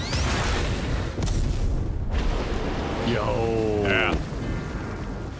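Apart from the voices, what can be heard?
explosion in the video game Final Fantasy XIV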